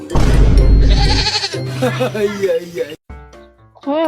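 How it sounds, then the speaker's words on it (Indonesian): A goat bleats loudly and close, a drawn-out wavering cry, followed by chatter and a child-like voice calling out, all cartoon-compilation style with people speaking through most of it. "Kambingnya mana? Itu kambingnya."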